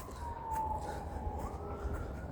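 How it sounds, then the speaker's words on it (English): Emergency vehicle sirens wail faintly in the distance near a closed canal-side path, a thin rising and falling tone drifting over steady low outdoor rumble. "I do hear sirens."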